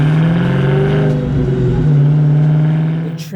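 A 2019 Dodge Challenger R/T Scat Pack 392 Widebody V8 revs loud and close as it pulls away, a deep steady engine drone with strong harmonics that rises slightly, then fades at the end.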